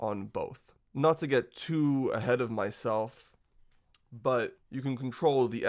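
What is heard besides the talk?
No everyday noises stand out.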